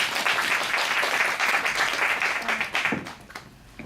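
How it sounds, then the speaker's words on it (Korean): An audience at a talk event claps for a speaker coming to the stage, a full wash of applause that holds steady, then thins out and fades toward the end. "큰 박수 부탁드립니다."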